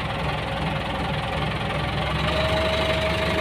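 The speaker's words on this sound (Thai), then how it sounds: "เดี๋ยวเราเร่งเครื่องสักหน่อย เร่งเครื่องนิดหน่อยครับอันนี้เกียร์24เราเร่งเครื่องหน่อย" A Ford 7740 tractor fitted with a post-hole auger runs its diesel engine raised above idle, a loud, constant knocking rumble with a rising whine near the end and no voices.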